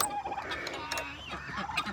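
Turkeys gobbling on a farm in the morning, a chorus of warbling calls at moderate distance, overlapping and fairly faint, with no talk.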